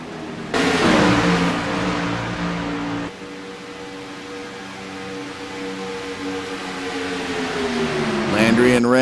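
Race cars on pit road at Daytona in a racing game hum with a steady engine drone that drops in level, then a nearby car sweeps past at the end, rising and falling in pitch.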